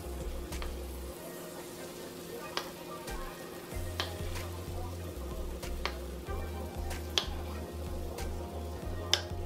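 Pancake batter cooking on a griddle in a mobile home kitchen gives a soft, steady sizzle with scattered small ticks and clicks, faint and close, with no one talking.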